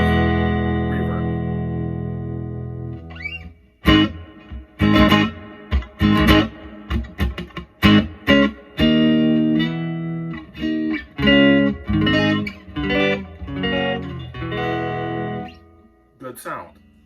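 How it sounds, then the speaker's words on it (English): Electric guitar played through a Princeton amp with a little delay and reverb, starting with a sustained ringing chord and then moving into plucked notes and strummed chords that trail off into echo. "I have the echo or the reverb and the vibro set, so it's a little bit of a delay and a little bit of reverb."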